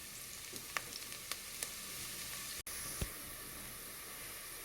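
Garlic and onion sizzle steadily in a pan, close and even, with a few soft scrapes and taps from a utensil stirring them through.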